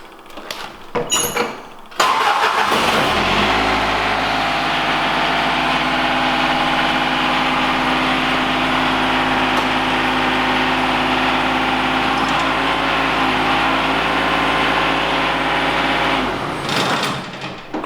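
A farm machine's engine starts with a brief cranking burst, then settles into a steady, loud, close idle that drones evenly for about fifteen seconds before cutting off, with no talking.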